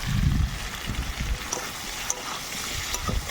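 Spice paste of cumin, green chilli and ginger hitting frying vegetables in a home kitchen, a loud sizzle that flares at the start and then settles into a steady crackle, with occasional stirring clinks.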